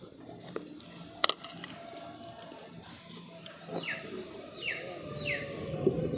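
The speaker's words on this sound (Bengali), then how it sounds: "দেখুন উনুনটা ধরিয়ে কড়াটা বসিয়ে দিয়েছি।" A metal kadai is set onto a lit stove in a home kitchen while cooking a pea snack. Faint, scattered metallic clinks and scrapes ring out over quiet background noise.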